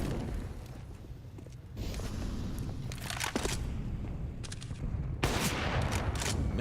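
Gunfire in Counter-Strike during a professional esports match: bursts of rapid shots come in clusters, with sharp cracks over a steady background of game noise, and the loudest volley arrives near the end.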